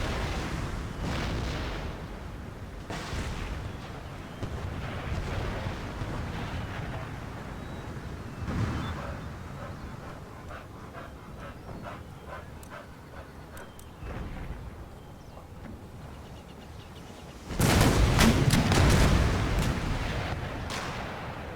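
Troops fire muskets and artillery in the video game Empire Total War, with repeated rumbling volleys and booms at a steady distance and a loud, heavy blast near the end.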